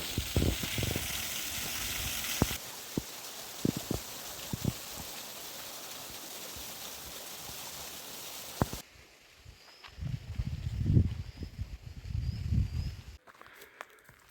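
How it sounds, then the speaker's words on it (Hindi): A small waterfall with a low trickle of water flows in a steady hissing wash, then cuts to quieter outdoor ambience with rustling and low rumbling sounds near the end. "ये है एक छोटा सा वाटरफॉल"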